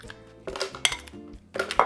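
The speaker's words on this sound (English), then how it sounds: "add in those toasted guajillos. They're toasted for sure, as you can hear" Light, dry rattling and clattering bursts as toasted dried guajillo chiles tumble into a blender, in a few separate clusters.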